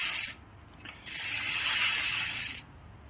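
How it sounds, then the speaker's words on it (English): A custom RideOutSupply sprocket and freewheel on an SE Bikes Big Ripper spin freely, giving a steady ratcheting buzz in two runs, a short one then a longer one, with a brief pause between. "Make sure you can freely spin your sprocket and your freewheel around."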